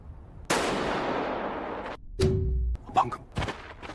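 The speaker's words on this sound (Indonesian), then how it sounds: "Padahal jelas-jelas itu suara tembakan." A gunshot in a film's elimination-game scene: a single loud broadband crack with a long decaying tail, followed by a tonal beep, a low thud and a few shorter knocks and rustles.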